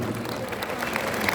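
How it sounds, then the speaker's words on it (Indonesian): An audience at a business network marketing seminar in Indonesia applauds loudly, a dense wash of many hands clapping at once, with a voice faintly underneath. "Boleh tepuk tangan yang keras ini."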